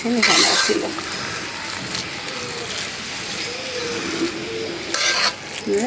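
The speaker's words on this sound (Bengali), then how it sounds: "খিচুড়িটা তো হয়ে গেছে ফাইনালি একটা নাড়া দিয়ে দিই" Khichuri is stirred in a cooking pot with a spoon scraping and sloshing through the thick mixture, with a faint sizzle beneath as people talk over it.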